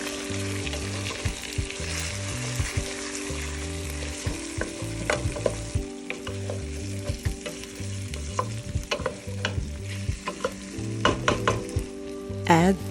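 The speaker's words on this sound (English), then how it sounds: "I am using jasmine rice. Saute the rice." Jasmine rice sauteing in a pan for Filipino lugaw, a close crackling sizzle broken by repeated scraping stirs of a utensil against the pan, alone without speech.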